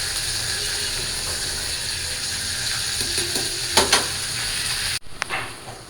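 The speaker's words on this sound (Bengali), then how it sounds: "আর এই পাশে এই যে আমার রোস্টগুলো ভাইজা নিতেছি" Pieces of chicken roast frying in a pan over low heat, a constant sizzle running throughout with a few sharp utensil clicks and scrapes near the end.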